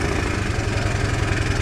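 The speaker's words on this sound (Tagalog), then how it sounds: "May motor pala." A motorcycle engine idles steadily nearby, a loud, even, low chugging rumble with a regular pulse and no pauses, with no talk over it.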